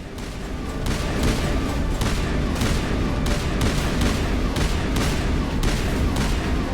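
Rapid bursts of weapon fire in the Mass Effect game on Insanity difficulty, loud, close and sustained, with repeated bursts roughly every half second over dense battle noise and no talking.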